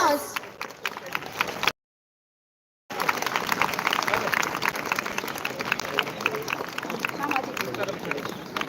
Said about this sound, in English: Students, congratulate them with a big round of applause.